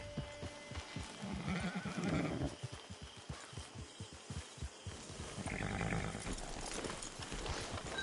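A horse in the Red Dead Online game neighs and whinnies up close, followed by a run of hoof clops, then another whinny with animal snorting near the end.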